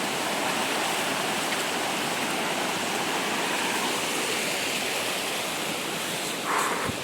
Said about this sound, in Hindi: ये अंतिम नदी थी जो वाटरफॉल पे जाने से पहले पड़ती है।